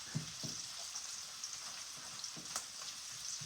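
Steady, soft sizzling of garlic frying in a pan, with a few light clicks and pops over the constant hiss.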